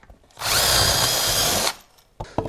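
A power drill bores into a wooden board on a workbench, one loud steady burst of about a second with the motor spinning up and winding down, followed by faint handling clatter.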